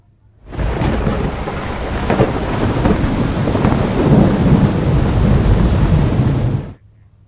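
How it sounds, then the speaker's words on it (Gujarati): A thunderstorm over Bharuch pours heavy rain with a loud, dense roar, while deep rolling thunder swells and rumbles through it for several seconds before it cuts off. "ભરૂચમાં વીજળીના કડાકા ભડાકા સાથે ધોધમાર વરસાદ વરસ્યો"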